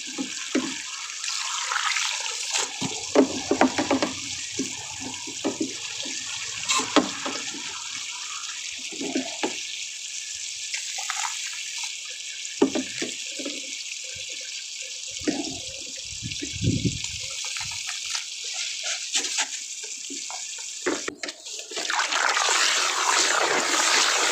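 Liquid fertilizer solution pours into a seedling tray for nursery lettuce seedlings, a steady splashing wash of water running through most of the stretch, with a few brief clunks and a louder gush near the end; no voices.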